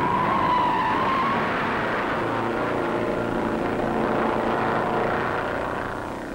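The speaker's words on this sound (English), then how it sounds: "Here they come. They're picking up speed. The green flag, the race is on." A pack of 1958 Grand National stock cars accelerates off the start at the Daytona Beach race, making a loud, continuous roar of many engines that holds steady and fades slightly at the end.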